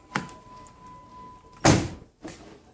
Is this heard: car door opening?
yes